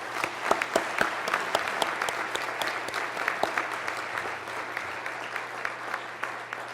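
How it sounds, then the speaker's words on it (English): A hall audience at a city State of the City address gives a sustained round of applause for the color guard, with sharp individual claps standing out from the steady wash and a low hum underneath. "How about a round of applause for our color guard?"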